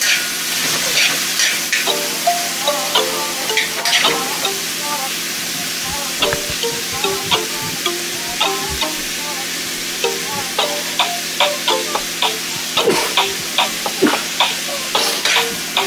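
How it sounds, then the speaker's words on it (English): Seasoning and vegetables sauté in a pan for corned beef and cabbage, giving a steady close sizzle with a spoon or spatula stirring and scraping in frequent light clicks throughout. "so we're sauteing that for a minute or two"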